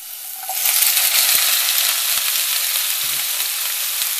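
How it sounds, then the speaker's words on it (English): Bitter melon and plenty of garlic sizzle as they hit a hot pan and are stir fried, a steady bright frying hiss swelling after half a second, with occasional spatula clinks. "Put the garlic, it has to be a lot of garlic. We have to stir fry."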